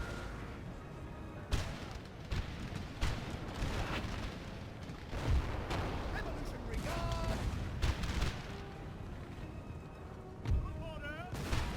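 Cannon fire in the Napoleon Total War video game booms repeatedly at irregular intervals, several distant heavy blasts over a steady battle din, with a voice speaking over it.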